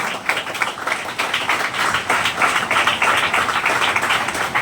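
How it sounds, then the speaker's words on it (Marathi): Loud, sustained applause from a gathered crowd at a retirement day assembly for a long-serving teacher, Thakre sir, with dense, fast, even clapping throughout and no voices over it. "आपण सर्वांनी टाळ्या वाजवून त्यांचं अभिनंदन, त्यांचं स्वागत करूया. मोठ्याने जोराने टाळ्या वाजवायच्या मित्रांनो."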